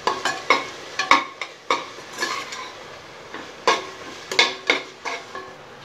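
Ginger garlic paste sautéed in a pan for mutton curry, with a utensil scraping and clattering against the pan in irregular sharp strokes over a soft background sizzle, close and fairly loud.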